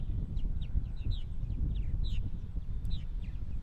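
Purple martins chirp and chatter in short repeated calls around a nesting colony on eastern Long Island, faint against a steady low rumble of background noise.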